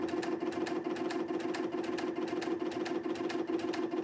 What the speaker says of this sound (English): we just hit the button and now it's going to sew on a 45 degree angle